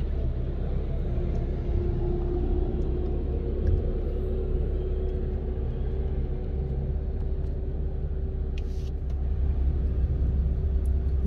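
Heavy trucks, likely from the same company hauling material, rumble past on Lerdo Highway near Lerdo and Shafter, a steady low road drone filling the whole stretch with no talk over it.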